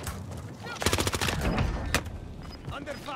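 Gunfire in a shooter video game rattles in a fast burst of sharp, close shots with a few more cracks after it. People talk under and around the firing.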